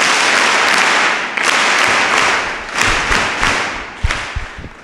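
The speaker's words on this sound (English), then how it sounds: "we welcome her, again, the common Kenyan way, with three hearty claps." Schoolgirls clap in unison in three loud, hearty claps in a school hall during a welcome for Turkish Embassy visitors in Kenya, with sharp bursts over a dense room wash and some scattered clapping between.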